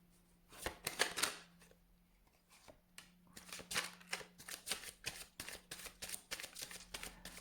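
Elemental Wisdom Tarot cards shuffled by hand in bursts of crisp riffling and flicking, with a brief pause between a first flurry and a longer run of repeated shuffles, close and fairly quiet against a faint steady hum.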